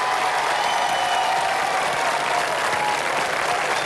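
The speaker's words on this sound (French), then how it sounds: "On va leur faire un tonnerre d'applaudissements et leur souhaiter bon courage dans la vie." Loud, steady studio-audience applause on a 1996 French TV game show, a dense continuous wash of clapping close up, with no talk over it.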